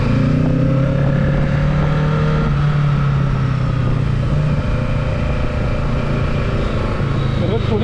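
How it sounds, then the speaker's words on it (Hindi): Kawasaki Ninja 650 (2023) motorcycle engine revving as the throttle is opened, a loud, close, sustained roar that swells and then settles into a steady drone, with a person talking over it. "मैंने गलती से एक्सेलेरेटर ले लिया"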